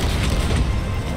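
Cannon fire in a pirate ship video game, a dense low booming rumble that fills the whole short moment at steady loudness with no clear gaps between shots.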